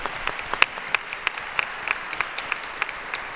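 Applause after the announcement of a book titled El corazón es un resorte: light, fairly faint clapping with sharp individual claps at a steady, even pace throughout, no voices over it.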